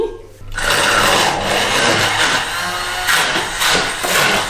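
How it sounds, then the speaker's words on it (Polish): A kitchen blender purees thawed frozen pumpkin into a smooth mass, starting with a sudden loud whir after a brief pause and then grinding steadily and close up, with slight fluctuations in pitch as the contents churn. "Zblendujemy to teraz na gładką masę. Funkcja blender."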